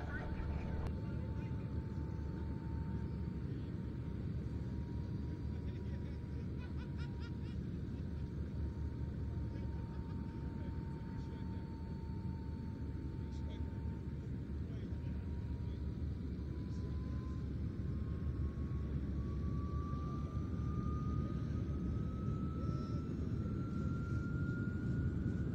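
Display aircraft at an evening air show at Duxford drone steadily in the distance, a low continuous engine rumble with a faint tone that slowly rises in pitch, under a commentator's voice.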